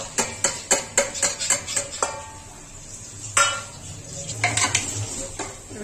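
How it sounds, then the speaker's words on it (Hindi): Mutton with onion, garlic and ginger paste being stirred in a metal pot, a spoon scraping and clanking against the sides in a quick series of close strikes, then a few scattered knocks and a faint sizzle beneath. "इसको हिला रहे दोस्तों, थोड़ा मिक्स कर रहे हैं"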